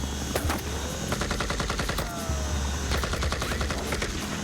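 Bursts of automatic gunfire crackle outside in rapid volleys, fairly close, over a constant mechanical drone like an idling military aircraft in Afghanistan.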